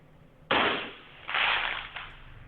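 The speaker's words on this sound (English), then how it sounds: "Sound like a firework." A sudden sharp bang like a firework, picked up on a home garage security camera, followed by a second louder burst and a smaller third crack, each with a broad noisy decay.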